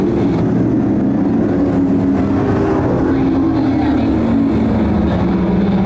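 Pro stock race cars roaring down the front stretch of a dirt oval at Can-Am Speedway, a loud continuous engine drone that shifts in pitch as the pack passes, with a crowd or announcer faintly under it.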